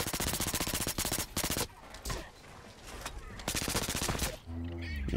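Rapid automatic gunfire from the first-person shooter Blacklight Retribution on PS4, with dense bursts of shots and brief pauses between volleys, loud and close, with a faint voice at times underneath.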